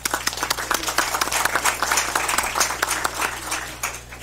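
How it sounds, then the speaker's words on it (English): Applause for a ninth-grade student of the month at a school district meeting, a steady patter of many hands clapping at moderate loudness, heard alone for several seconds with a low background hum underneath. "Give him a round of applause."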